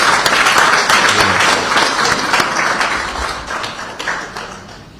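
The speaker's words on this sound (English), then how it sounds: "So let us give him another round of applause." An audience at an inauguration ceremony for education funds applauds loudly, a thick roomful of claps that sustains and then slowly tapers off.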